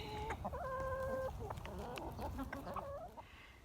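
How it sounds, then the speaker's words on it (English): Several chickens cluck and squawk nearby in a busy, overlapping flurry, with a longer drawn-out call near the start, over low background noise. "We got all various and sundry colors and sizes and shapes of chickens."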